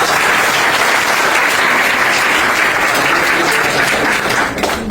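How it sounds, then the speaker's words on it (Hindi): A large audience at a motivational speaking event bursts into loud, dense applause, a continuous roar of clapping that holds steady for several seconds before starting to thin at the end. "तो मैं चाहूंगा इनके लिए जबरदस्त तालियां।"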